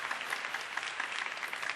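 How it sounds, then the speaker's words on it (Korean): A masterclass audience gives a round of applause, with steady, dense clapping from many hands filling the room. It is moderately loud and has no speech over it. "다시 한번 큰 박수 부탁드립니다."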